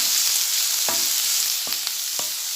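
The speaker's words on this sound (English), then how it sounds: "We'll cook in a medium flame till these vegetables are half cooked." Carrots and other vegetables fry over a medium flame, a constant hissing sizzle with a few scattered taps and scrapes of a spoon against the pan, no talking.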